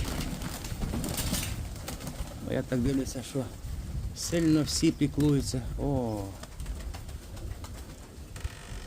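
Pigeons coo repeatedly at close range, their soft throaty calls mixed with other bird chirps while someone talks over them.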